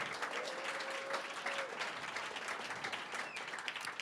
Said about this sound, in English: So can we get a quick round of applause for PullSpark,